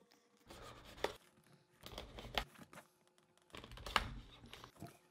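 A pocket knife slices through packing tape sealing a cardboard box, giving three short scratchy, crinkly cutting strokes spaced about a second apart, close and fairly quiet with no talking.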